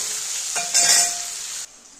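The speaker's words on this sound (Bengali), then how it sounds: "দেখো কাঁচকলা আলুগুলো কেটে ধুয়ে নিয়েছি, এবার আমি ভেজে নেব। তেলটা গরম হয়ে গেছে।" Raw green banana pieces sizzle and crackle as they fry in hot oil for a Bengali fish roe curry, a steady close hiss that swells briefly when stirred, then drops off near the end.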